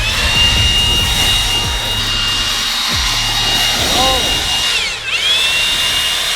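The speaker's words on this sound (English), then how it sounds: "we're gonna test out the leaf blower on it and see what happens." A loud leaf blower roars steadily at close range as it blasts apart a cardboard box fort, with a high whine over the rush of air and a brief dip and pitch sweep near the end.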